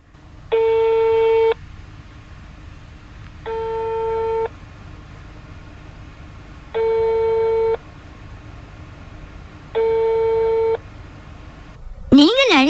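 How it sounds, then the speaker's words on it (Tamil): A telephone's dialing tones lead into a busy signal: four evenly spaced, steady beeps repeat clearly at close range, then a brief rising tone cuts in at the end. "சரி சரி போன் பண்ணி பார்ப்போம்"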